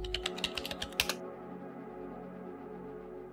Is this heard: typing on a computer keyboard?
yes